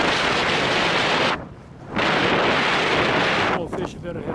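Strong wind buffeting the microphone at Big Meadows Reservoir in Colorado, loud roaring gusts that drop away briefly twice before surging back.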